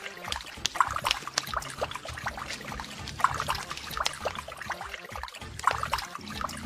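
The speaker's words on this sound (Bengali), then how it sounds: "এই তো জলের সাউন্ড আসছে" Water runs from a tap left open into a basin, a faint steady trickle and splash at moderate distance with irregular drips, and no talking.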